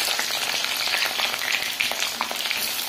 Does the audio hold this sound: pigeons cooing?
no